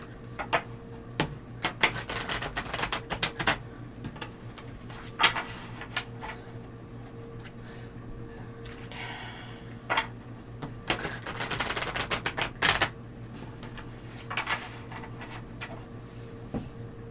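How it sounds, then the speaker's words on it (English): A tarot card deck shuffled and riffled in quick clicking bursts, with a sharp flurry near the end, close and fairly quiet against a low background hum. "Man, Violet, I love the way this deck shuffles, this new deck."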